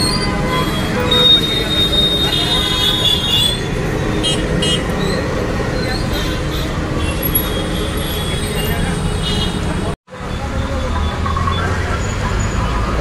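Busy street traffic in a Jaipur market near Chhoti Chaupar, a dense continuous roar of engines and road noise with a brief dropout near the end, voices faintly mixed in.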